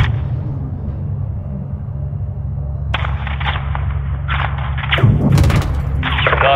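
Gunship cannon rounds firing and thudding down in Call of Duty Modern Warfare 2, Mexico Las Almas mission, heard as a low rumbling drone broken by repeated dull thumps and booms, heavier toward the end.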